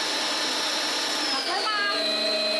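A Nikai stand mixer whirs steadily at its sixth speed setting, a loud continuous motor hum with a slight shift in pitch partway through.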